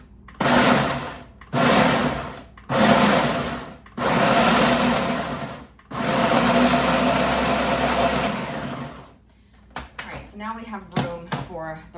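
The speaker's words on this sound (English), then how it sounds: "I have them in the blender now, and let's just pulse this." A blender pulses dehydrated tomatoes into powder in loud repeated bursts of a few seconds each, with brief pauses between them, then goes quiet while a person speaks close by.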